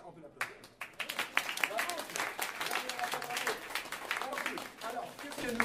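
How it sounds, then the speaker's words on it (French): Applause breaks out for a young soloist at a music masterclass competition in Victoriaville. The clapping is dense and steady throughout, with voices heard briefly over it. "Excellent, on peut l'applaudir."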